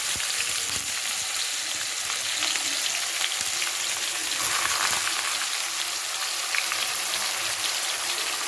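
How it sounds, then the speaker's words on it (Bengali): Onions dropped into hot mustard oil with sugar for a chicken dish, making a loud, dense, continuous sizzle and crackle close by, with no talking. "বন্ধুরা, তেল গরম হয়ে গেছে, তেলে যে চিনিও দিয়েছিলাম, এবার পেঁয়াজ দিয়ে দিচ্ছি।"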